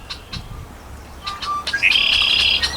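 A blackbird calls in a reed marsh on a park lake, giving a few short chirps before a loud, sustained buzzy trill, close and clear over quiet ambience.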